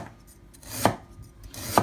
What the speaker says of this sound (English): Firstly, we're gonna chop the ginger up.